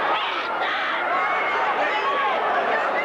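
A boxing arena crowd roars in a steady, dense wash of cheering and shouting from many voices, loud and continuous for the whole stretch, with no single voice standing out.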